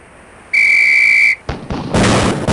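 A sharp, steady whistle signal from the MS-DOS game Police Quest: SWAT sounds loudly for about a second, followed by a couple of booming shots and a sustained blast.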